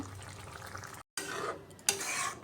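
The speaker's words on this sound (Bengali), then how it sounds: "এবার মশলার সাথে ভালো করে মিক্সড করে নিচ্ছি সব" A spoon stirs egg and potato curry with spices in a pan, giving soft scraping and clinking strokes with a gentle sizzle, broken by a brief cut to silence partway through.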